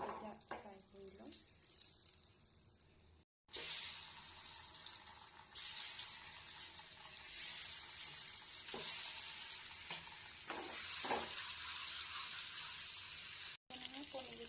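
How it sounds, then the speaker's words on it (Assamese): Eggs fry in a pan of oil seasoned with salt and turmeric for an egg curry. A continuous close sizzle is joined by stirring clatter and occasional brief sounds of running water, with a voice at times underneath. "তাতে আমি এতিয়া ডিমকেইটা ফ্ৰাই কৰি ল'ম।"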